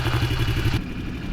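A small pit bike engine runs close by in a dusty off-road spot, a steady throbbing putter that suddenly loses its upper buzz partway through and carries on as a lower rumble.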